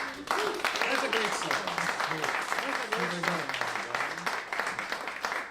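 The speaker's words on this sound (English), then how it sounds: "it's with all that applause" Audience applause after a string band plays an original tune at a live show: steady, dense clapping that keeps going for several seconds, with voices and cheers mixed into it.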